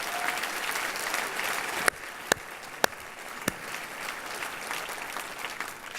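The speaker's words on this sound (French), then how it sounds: "On peut encore une fois les applaudir, s'il vous plaît." An audience at an economic awards ceremony in Geneva gives a round of applause, sustained clapping from a hall crowd with a few sharper nearby claps standing out.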